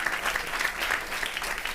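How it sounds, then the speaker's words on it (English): Audience applause at a conference panel on food systems, a steady dense wash of clapping throughout, moderately loud and continuous with no talk over it. "So another round of applause as they exit, please."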